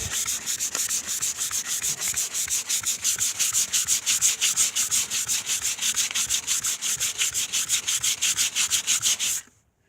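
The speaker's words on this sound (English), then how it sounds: "Alright, sanding, see." Steady, rapid back-and-forth scratching of 220-grit sandpaper rubbing truck paint by hand, close and continuous, stopping abruptly near the end.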